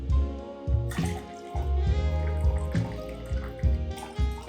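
Cold water poured into a cocktail shaker for a non-alcoholic absinthe drink, a steady close pour with gurgling splashes running through the clip and no talk.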